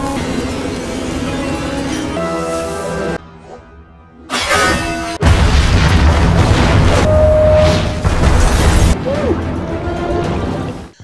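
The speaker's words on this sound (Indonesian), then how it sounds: "Ledakan gas membuat Steffi yang masih terjebak berusaha melepaskan sabuk pengaman sebelum ia mati tenggelam" Film-trailer sound for a gas explosion: heavy booms and crashing impacts are cut between quieter gaps, building into loud, dense rumbling blasts before the sound settles into softer effects near the end.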